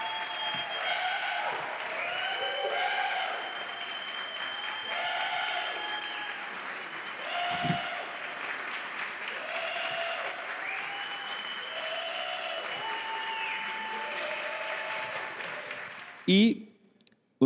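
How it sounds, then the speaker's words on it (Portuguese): An audience claps steadily at a theatre talk event, sustained applause lasting over fifteen seconds, moderately loud and close, with a brief louder burst near the end. "Uma salva de palmas"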